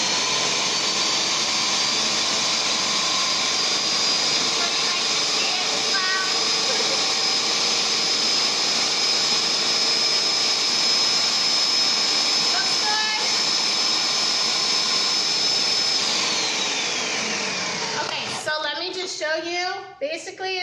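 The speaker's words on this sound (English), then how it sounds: "So I'm going to whiz this up really quick. I'm going to puree it into like baby food." A blender purees fresh pumpkin with a steady high whirring roar that holds for most of the stretch, then winds down and stops near the end as a voice begins talking.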